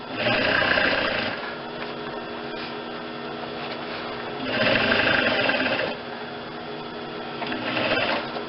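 A sewing machine stitches through foam while a collar is attached to a vest, with a whirring motor that runs in two loud bursts separated by slower, quieter stitching and a brief pickup at the end.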